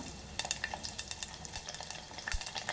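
Garlic cloves dropped into hot oil for tempering a tamarind rasam, crackling and sputtering in quick irregular pops and ticks, close and fairly soft, with no talking.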